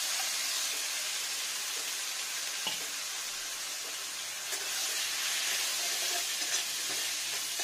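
Onion greens with turmeric, salt, sugar and spices fry in raw mustard oil, a steady close sizzle with occasional stirring scrapes and clinks, no talk over it.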